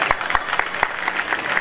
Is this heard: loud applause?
yes